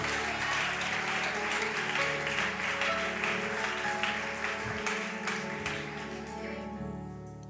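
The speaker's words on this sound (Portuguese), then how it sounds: "Aleluia, aplauda a Jesus." Church congregation applauding during a service, a steady wash of clapping over sustained musical tones and a speaking voice, gradually thinning toward the end.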